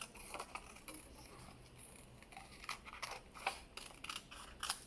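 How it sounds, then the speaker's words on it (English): Paper is cut by hand with scissors to make a curvy bookmark shape. The snips are quiet and close, a string of short crisp crunches that grows denser toward the end. "And I'm going to cut that out."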